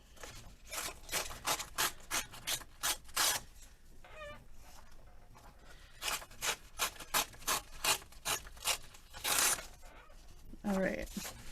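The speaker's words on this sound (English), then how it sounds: "ripping out background paper book right now" Pages being torn from a background paper book for a tag and envelope papercraft project make a rapid series of rasping rips and rubs, close and steady, with a few crinkles between tears.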